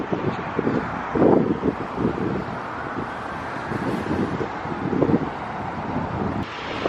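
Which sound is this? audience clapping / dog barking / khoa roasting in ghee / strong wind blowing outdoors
strong wind blowing outdoors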